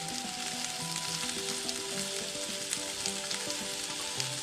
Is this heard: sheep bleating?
no